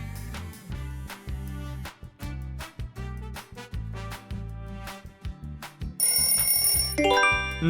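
A phone ringtone plays loud and close, a bouncy electronic melody with a punchy repeating beat, ending in brighter high synth notes.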